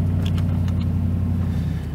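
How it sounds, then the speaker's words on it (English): A truck pulls away from a stop in light snow under throttle, giving a close, steady low engine rumble that holds for two seconds with no talking. "So let's get going, applying some throttle."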